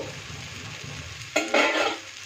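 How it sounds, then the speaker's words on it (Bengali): Pumpkin and potato curry stirred in a pan with a short, scraping burst of movement over a soft background hiss of cooking, fairly close and without talk. "মাঝে মাঝে একটু খুলে এভাবে নেড়ে নেব, নেড়ে আবার ঢেকে দেবো।"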